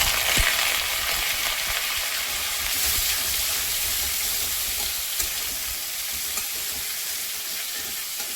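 Chopped carrots, potatoes and radish frying in hot tempering in a pan, a steady loud sizzle with stirring scrapes running throughout, with no talk.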